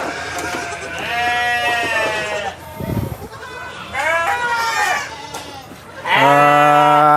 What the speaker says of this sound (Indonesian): Ini cempe-cempe kambing ya.